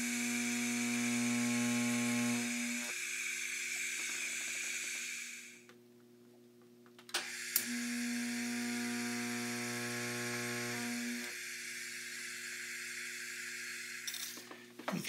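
Welding on the anti-roll bar of a Nova drag race car, a steady buzzing hiss that stops briefly midway and then resumes for several more seconds, with small clicks and taps between the runs.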